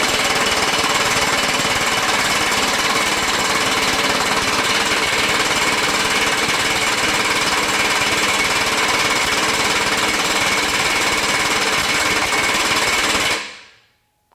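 A Kobalt XTR 24V high-torque impact wrench hammers continuously and loudly up close in mode 1, a dense rattling burst that runs for about thirteen seconds and then cuts off abruptly.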